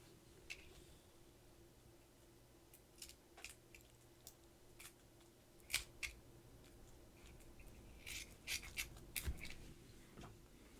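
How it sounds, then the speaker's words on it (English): Quiet, repeated snips of scissors cutting through Duel Masters trading card packaging, coming in irregular bursts with soft rustling in between. "I think I'm just going to grab the scissors again."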